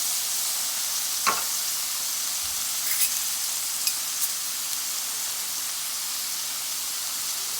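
Garlic and vegetables sizzle steadily in a hot pan for stir-fry, a continuous hissing fry with a few brief clinks and stirring taps, no talking.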